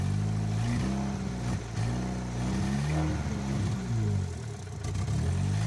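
A drift car's engine held at steady revs while the throttle is tweaked, a loud continuous mid-pitched drone with shifting harmonics that rise and dip slightly, close and alone.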